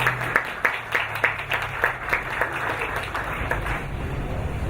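Audience applause for the first speaker at a Pint of Science talk in Ribeirão Preto, a modest crowd clapping in a loose, fairly sparse rhythm, with a few distinct louder claps early on, then a steadier patter that continues to the end.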